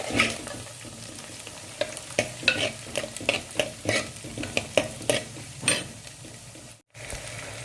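Chopped onions and tomato fry in hot oil in a pan while a spoon stirs and scrapes at a steady pace, the close sizzle underneath and no voices.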